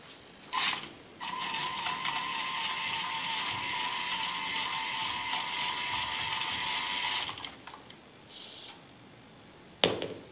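A TETRIX PRIZM MiniMAX robot's motors and gears whir and ratchet steadily for several seconds, quiet and close, with brief clicks before and a sharp clack near the end.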